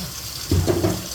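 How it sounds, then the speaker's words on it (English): Bottled water poured into a cooking pot while making Jamaican blue draws, a steady close splashing trickle rising over a low background hiss. "I'm gonna add the water"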